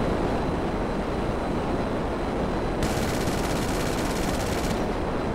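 Fighter jet guns firing in the GTA V video game, a dense rapid burst of gunfire that starts partway through and runs for about two seconds over a constant loud roar of jet engine and wind.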